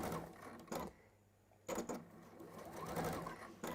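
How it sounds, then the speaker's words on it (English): A sewing machine stitching fabric under foot-pedal control runs in short, quick mechanical bursts separated by brief pauses, close by and fairly quiet. "Just keep lifting the foot pedal and inching it round so that you're always basically only ever having to sew straight."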